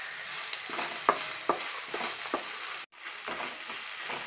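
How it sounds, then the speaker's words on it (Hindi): Chopped ginger and garlic sizzle in a hot pan with onion while making homemade masala paneer, a steady bright frying hiss punctuated by several sharp stirring scrapes of a spoon against the pan. "अदरक लहसुन को एक पीस फ्राई करना है।"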